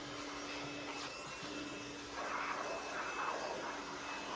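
Compressed air blows sawdust off handmade wooden lanterns on a workshop table, a steady hissing rush with a faint whine, growing a little stronger in the second half.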